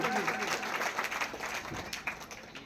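Crowd at a village Ganesh festival program claps loudly together in a dense burst of applause, steady then tapering slightly, with faint voices mixed underneath.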